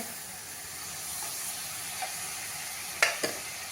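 Roasted flour batter with sugar and yogurt stirred in a pan over a low flame, a soft steady scraping under faint sizzle with two sharper knocks near the end.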